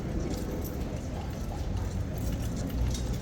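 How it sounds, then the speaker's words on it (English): Horses' hooves clip-clop steadily at close range, a busy patter of hoof strikes over a low outdoor rumble, with faint voices in the background. "here come the new horses"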